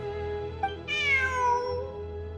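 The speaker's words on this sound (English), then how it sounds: "Look! A cat!" A single drawn-out cat meow from the video game Genshin Impact rises and then slowly falls, heard clearly over a steady low game-background hum.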